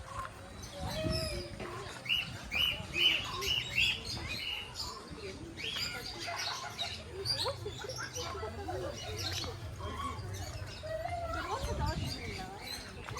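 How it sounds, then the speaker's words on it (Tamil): Parrots at an entertainment park in Yelagiri, shrill chirping calls repeated in quick bursts over steady crowd noise and nearby conversation. "அங்கே பாரு கிளியை மேலே எடுத்து உட்கார வச்சிருக்காங்க பாரு"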